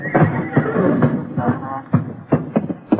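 Horse neighing inside a barn as a radio drama sound effect: a loud, close whinny with shuffling hoof sounds, then short bursts and snorts.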